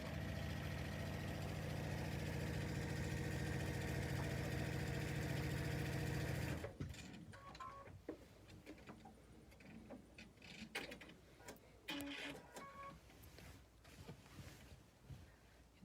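A Brother BQ3050 sewing machine fitted with a Mu-vit foot runs steadily while quilting, a loud even motor hum lasting about seven seconds before stopping, followed by scattered quiet clicks and fabric handling.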